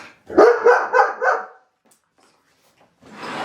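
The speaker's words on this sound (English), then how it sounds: "He's barking at our dog." A dog barks four times in quick succession, loud and close, at another dog, then falls silent for over a second before a burst of noisy rustle starts.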